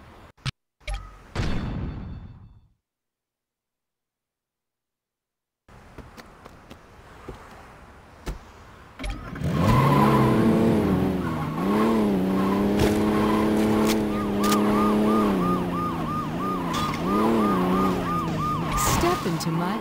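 Car driving in the Saints Row 2 video game, heard after a silent gap as a loud, steady engine drone with rising and falling revs, joined by a wavering siren-like tone and sharp skids.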